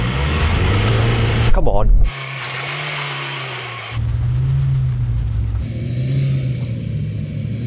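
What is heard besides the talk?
Ford Transit van engine straining in low range during tug of war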